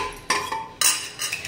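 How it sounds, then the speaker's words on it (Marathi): A metal pressure cooker picked up and set down in a home kitchen, a few sharp close clanks and rattles with short scraping handling between them and no talk. "आता मी इथे कुकर घेते,"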